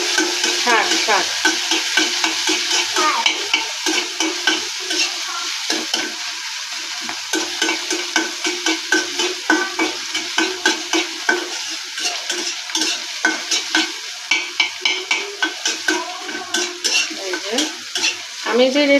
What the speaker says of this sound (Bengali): শাক রান্না করবো